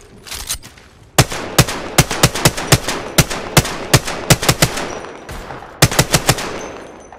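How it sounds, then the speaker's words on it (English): Loud gunfire in Apex Legends, with sharp single shots and quick clusters of rapid rounds cracking close by in an irregular rhythm, a short pause midway, then another fast burst. "Getting shot at."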